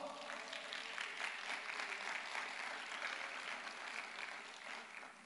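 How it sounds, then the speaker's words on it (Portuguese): A church congregation applauds, steady, dense clapping heard faintly at a distance and continuing evenly throughout. "Então aplauda ao Senhor."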